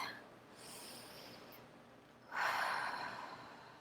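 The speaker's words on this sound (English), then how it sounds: "take a deep breath." A slow, deep breath heard up close during a calm tapping exercise: a soft inhale drawn through the nose, then a louder, breathy exhale that gradually fades, with no talking.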